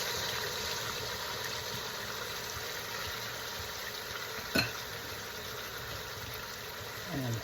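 Pulled pork pieces sear and brown in a hot pan with a steady, even sizzle throughout, broken by one sharp clack near the middle and a soft scrape at the end.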